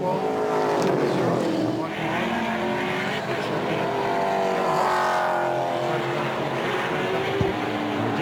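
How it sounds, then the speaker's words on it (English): V8 race cars, including a Nissan Altima, race at Pukekohe in a 2018 BNT V8s race. The engines roar loudly and continuously, with pitch rising and falling as the cars pass and shift gears. "you watch that Nissan Altima, he'll leap off down the back straight and pull a bit of a gap again"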